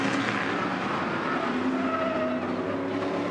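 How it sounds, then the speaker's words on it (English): Continental tires squealing on Stadium Super Trucks racing at Long Beach as drivers use the curbs, a continuous loud roar of engines and tire scrub with some high squealing tones running throughout. "you hear those Continental tires getting to work out, can't you?"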